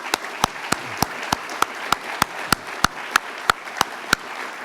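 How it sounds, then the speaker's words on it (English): Applause for veterans and military families at the IRI Freedom Award dinner: a few sharp, evenly spaced claps stand out close by over a soft wash of clapping from the wider audience. "I want to thank all of them and their families with a round of applause."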